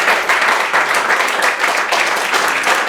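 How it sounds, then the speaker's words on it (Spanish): A church congregation claps in praise during a service, with lively, fairly loud applause filling the room in pulsing waves. "Denles de aplauso al Señor."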